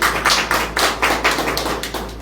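Loud, close hand clapping from an audience at a Tamil Nadu Congress political meeting, a dense run of rhythmic slaps that carries through without pause.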